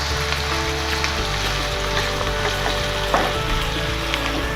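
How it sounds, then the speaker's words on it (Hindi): Cheese corn snack mixture fries in a pan with a dense, steady sizzle and occasional crackles, close and loud throughout with no talking. "इसका सिर्फ कच्चापन दूर करने के लिए हमने इसको फ्राई करना है"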